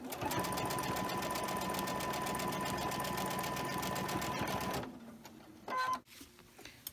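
A sewing machine runs in a steady rapid stitching rhythm through quilt fabric for about five seconds, then stops, leaving a few faint handling sounds.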